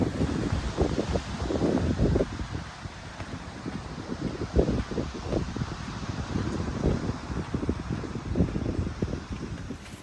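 Strong wind on the beach at Indiana Dunes buffets the microphone in loud, continuous gusty rumbles, with a wash of surf or rustling beneath.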